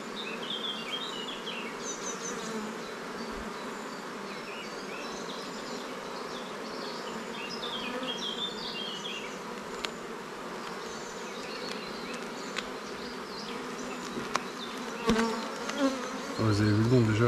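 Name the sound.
honeybees buzzing during hive transfer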